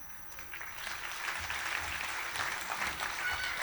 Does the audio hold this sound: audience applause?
yes